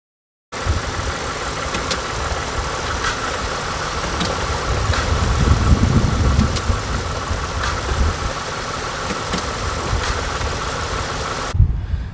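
A car engine with a worn engine mount runs steadily while being put in gear, a continuous mid-pitched drone with a faint knocking texture that holds for about eleven seconds before cutting off.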